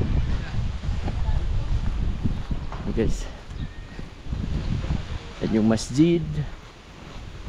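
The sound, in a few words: strong wind blowing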